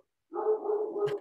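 A pet dog barks close to the microphone, a short burst of rapid yaps running about a second after a brief silence, heard alone in a home setting during a podcast recording.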